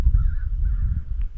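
Crows caw a couple of times in the distance, harsh calls over a low rumbling outdoor background of wind in a Minnesota turkey-hunting setting.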